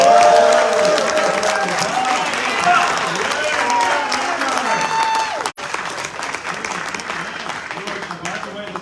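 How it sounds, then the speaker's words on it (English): Steady applause from a crowd, loud and sustained, with a brief break midway before clapping resumes. "So give him a round of applause."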